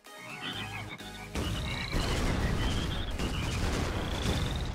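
Frog croaks from the video game ShellShock, a steady chorus of repeated chirping calls over a loud, dense rumbling game background, growing fuller after the first second.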